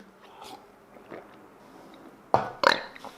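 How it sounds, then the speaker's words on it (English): Two loud, close burps erupt one after the other after drinking water, standing out above a quiet indoor background of faint rustling. "How do you burp off of water?"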